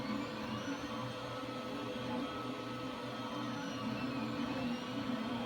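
A 3D printer laying down a BB-8 part in 0.2 mm layers, giving a continuous, close motor whir and hum with faint shifting tones and no pauses.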